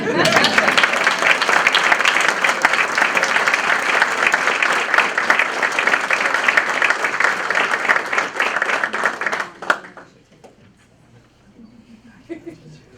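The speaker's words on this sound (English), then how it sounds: "Round of applause to, strange name, Christopher Dowling" Audience at a school board meeting gives a loud, sustained round of applause for a student, the clapping cutting off abruptly and leaving a quiet room with faint murmurs.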